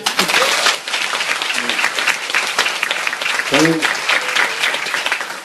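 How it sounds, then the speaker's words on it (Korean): Loud, sustained applause from a seminar audience at a Korean health club lecture, many hands clapping steadily, with brief voices and whoops rising through it. "박수 한번 쳐주세요."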